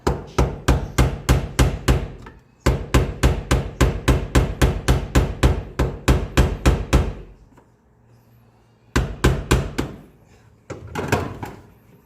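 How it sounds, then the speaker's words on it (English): Hammer tapping a flathead screwdriver to loosen the fuel pump locking ring on a Mini Cooper S, a fast run of sharp metallic strikes in steady bursts, pausing briefly before another quick series of close, loud taps. "I found that a flathead screwdriver and a hammer will get it off just fine"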